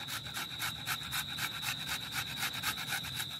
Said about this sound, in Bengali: তো পেঁয়াজটিকে আমি ঘষে নেব।